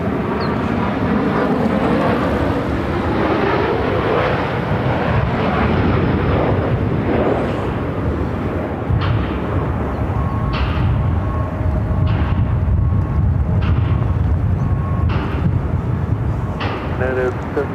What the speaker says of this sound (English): Southwest Airlines 3328 coming from Oakland on a MAX 8